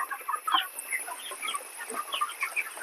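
Broiler chickens on a poultry farm cluck in a dense, steady chorus, many birds overlapping close by, with scattered bird calls standing out against continuous flock chatter.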